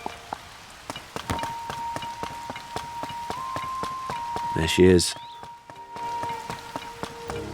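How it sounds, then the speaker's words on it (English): Rain falls in the video game The Legend of Zelda: Tears of the Kingdom, steady pattering drops and thuds over soft game music, with a character's brief voice and someone talking over it. "It's raining here now."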